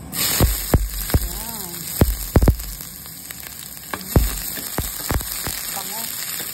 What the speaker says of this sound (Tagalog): Maglagay tayo ng mantika. So igisa na natin ang ating sibuyas.